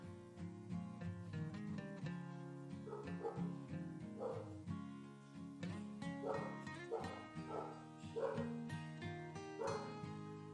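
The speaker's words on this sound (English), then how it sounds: "I do live with dogs, so you're likely to hear dog noises." Several Labrador dogs bark, yip and whimper in repeated, overlapping bursts, fairly close, with steady vocalizing throughout.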